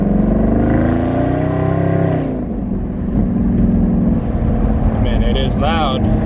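A loud exotic car engine revs hard and then settles to a rumbling idle, close by, with a voice talking over it.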